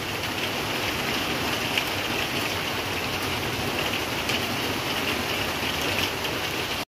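Heavy rain pours steadily outside a window, a dense, unbroken hiss of water close by that holds at an even loudness throughout with no voices.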